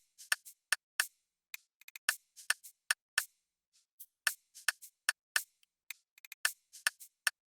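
Crisp programmed Afrobeat percussion loop made in FL Studio, with a shaker and an added click that bounces off it, producing sharp, dry, evenly spaced ticks in a syncopated pattern, quiet and alone.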